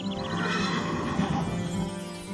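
A large 1,100-pound horse at a cowboy riding school neighs loudly and close, one drawn-out whinny over a low rumble of background noise.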